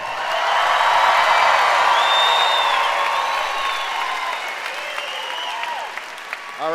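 A crowd at a high school graduation cheers and applauds the graduates, loud sustained clapping mixed with whoops and shouts that gradually thin out near the end.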